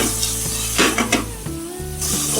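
Onions fry in a pan for bhindi masala with a steady, dense sizzle, punctuated by brief scraping stirs and a few light clanks of a utensil against the pan.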